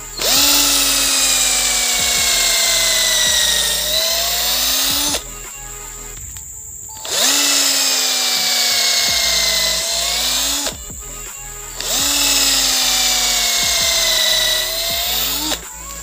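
A power drill bores into the trunk of an agarwood tree outdoors, whining loudly in three long bursts separated by short pauses, with no talking.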